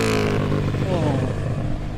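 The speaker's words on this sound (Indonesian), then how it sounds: "cukup berisik knalpotnya" Loud motorcycle exhaust passing on the Medan–Binjai road, a close, throaty engine drone that rises then eases over two seconds, with a voice talking over it.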